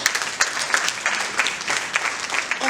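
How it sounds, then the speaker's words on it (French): An audience at a public-speaking talk applauding, with lively, fairly dense clapping and occasional sharper individual claps, moderately loud and close, with no talk over it. "On l'applaudit."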